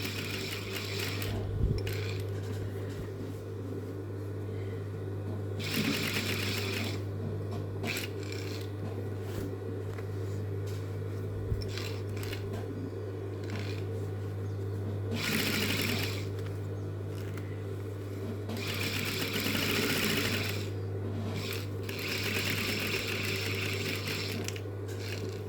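A sewing machine stitches a jacket pocket. Its steady motor hum and rapid needle chatter run close and continuous, rising in several louder bursts of fast stitching, with no talking.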